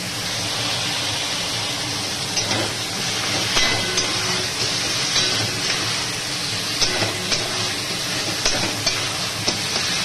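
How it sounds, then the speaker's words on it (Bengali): Taro leaf greens being stirred as they fry in a pan, with a steady broadband sizzle and repeated scrapes and clinks of the spoon against the pan, close and loud throughout. "খুঁটে দিয়ে ভালো করে ঘেঁটে দিয়ে এটাকে ভালো করে হতে দেবো।"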